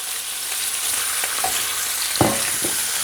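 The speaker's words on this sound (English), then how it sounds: "So all we're going to do here is just brown it a little bit all over, just for a minute or two." Cubed venison browning in a hot pan gives a steady, close frying sizzle throughout, with a brief sharper crackle or stir near the end.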